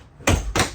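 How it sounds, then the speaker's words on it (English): An RV door is shut from inside as loud noise carries in from outside, giving two sharp, close thumps about a third of a second apart with no talking. "It's a little loud outside, so let me close the door."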